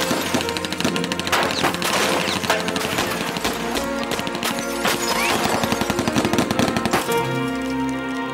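Movie gunfire aimed at an airplane window comes as a dense, continuous barrage of rapid shots, mixed under a loud, sustained film score throughout.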